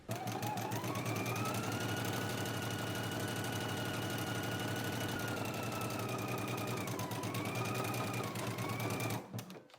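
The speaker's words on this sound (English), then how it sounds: "Let's go ahead and stitch our center seam now, and then stitch again right along the same seam to reinforce it." A sewing machine stitches the center seam of a pair of pants, a continuous close mechanical whir with a rapid needle rhythm running steadily for nearly ten seconds before stopping, no voices.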